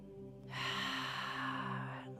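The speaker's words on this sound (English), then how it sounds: "Taking deep breaths in" A single long, soft breath of air drawn in during a strength and balance class, a steady breathy hiss lasting about a second and a half over a faint background hum.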